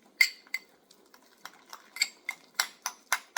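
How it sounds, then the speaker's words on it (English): Natto beans stirred with vegetarian oyster sauce, a run of sharp clinks and taps of utensil against bowl in a fairly even rhythm, close and moderately quiet, with no talking. "Mix that into our natto beans."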